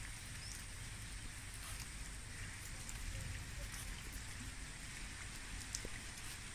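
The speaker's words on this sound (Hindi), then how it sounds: "ये देखें, ये हमारे घर का बारिश का मौसम।" Steady rain falls outside a house after a long dry spell, a soft continuous patter and hiss held at an even, quiet level throughout.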